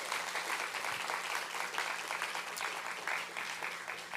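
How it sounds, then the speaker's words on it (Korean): A church congregation claps together in sustained, even applause lasting the whole stretch, steady and moderately loud in an indoor worship setting, with no talk over it. "우리 자매에 비해 한번 응원의 박수를 한번 하십시다."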